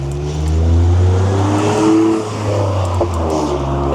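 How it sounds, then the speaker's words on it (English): Cars drive past on a normally quiet road on a morning: a loud, steady engine roar with rising and falling tones as vehicles pass close by, one after another, with no talking. "This is normally a pretty quiet road, but we seem to have all the cars this morning."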